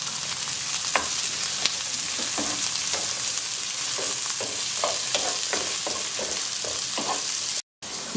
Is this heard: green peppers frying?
yes